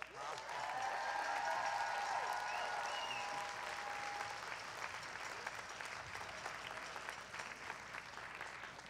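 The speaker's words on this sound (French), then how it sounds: "Et une main d'applaudissement, bien sûr," Sustained audience applause at a school concert for guest singers, loud and dense at first and then easing slightly, with a sustained musical tone lingering early on.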